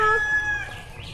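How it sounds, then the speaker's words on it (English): A goose at a cave swimming spot in Santo Domingo, Dominican Republic, gives a short, loud, honking call up close, a single brief burst that fades quickly. "That's Botica, the goose or geese or goose."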